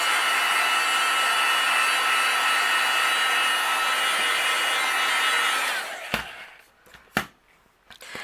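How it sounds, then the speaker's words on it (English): A heat gun dries ink on an embossed card panel, blowing a loud, steady whooshing hiss for about six seconds before cutting off, followed by a few sharp handling clicks. "I'm going to use my heat gun and dry this real fast."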